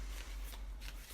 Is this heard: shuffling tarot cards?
yes